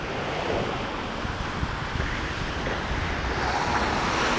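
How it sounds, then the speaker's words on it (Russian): Storm waves roll onto a pebbly beach at Ordzhonikidze in Crimea, a loud continuous roar of surf with heavy wind buffeting the microphone, no voices heard. "Сегодня шикарный накат волн"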